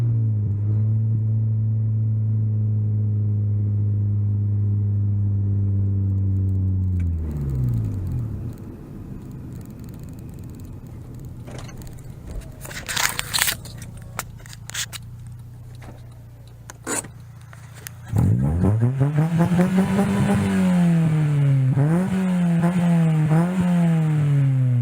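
A turbocharged Honda D16 swap car engine idles and revs with rising and falling tones, interrupted by rattling and scraping noises before revving again, fairly close.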